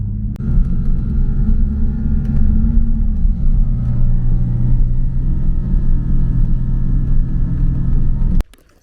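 Steady, loud road rumble from inside a car as it drives, a constant low drone holding for about eight seconds before cutting off abruptly.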